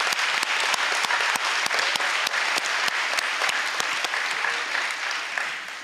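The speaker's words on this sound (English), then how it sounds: "Can we give them another round of applause?" An audience at a sixth grade promotion ceremony claps in a steady, dense round of applause that fills the room and fades slightly at the end.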